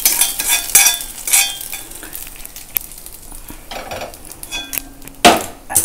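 Cashews and curry leaves frying with mustard seeds in oil make a bright crackling sizzle broken by scraping stirs and a few sharp pops, up close with no voices.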